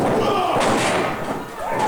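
A wrestler throws a shoulder tackle in a pro wrestling match, giving a loud body slam and thud on the ring canvas amid steady crowd noise and commentary.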